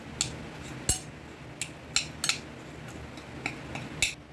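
Fried tofu being mashed and crushed with a metal utensil, giving a string of sharp, close clinks and scrapes of metal against a dish at irregular intervals, with no talking.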